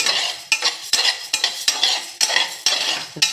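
Toor dal dry-roasting in a pan, with a quick, regular series of metal spoon scrapes and clinks against the pan, about three per second, close and clear with no talking.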